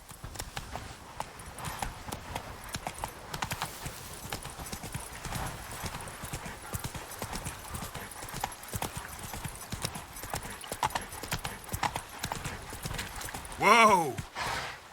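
Steady clip-clop of horse hooves in The Witcher 3: Blood and Wine, quiet and rhythmic, ending with a loud horse whinny near the end.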